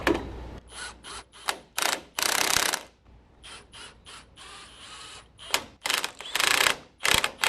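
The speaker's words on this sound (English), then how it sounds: "Use the 18mm socket to tighten it up." A ratchet fitted with an 18mm socket tightens a bolt on a 2014-2018 Silverado truck lift, giving a series of sharp clicking bursts in an uneven rhythm, some quick and short, others longer runs of rapid clicks, close up and fairly loud.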